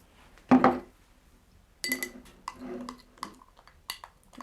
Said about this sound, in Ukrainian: Можна я розмішаю? Мішаю.